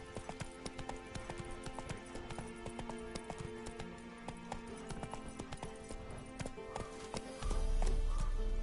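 A horse gallops in The Witcher 3: Wild Hunt with a steady, rapid clip-clop of hooves over game ambience, ending in a louder low rumble.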